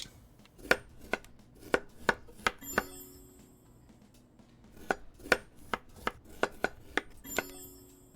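Knife chopping steak and potato on a wooden chopping board in the Chef Life restaurant simulator game, a series of sharp, close taps in irregular bursts with brief clinks, alone with no voices.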